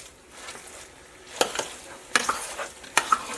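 Flour being mashed and stirred into hot fat in a pot to build a roux for a four-bean chili, giving soft scraping strokes with three sharper clacks of the spoon against the pan, close and alone.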